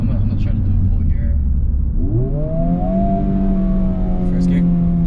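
Honda Civic Type R pulling hard through first gear, engine note climbing steadily over several seconds, loud and close from inside the cabin with talk over it.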